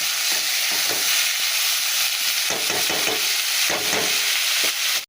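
Cooked rice fries in a pan with black cumin seeds and onion: a loud, continuous sizzle broken by repeated scraping clatters of stirring.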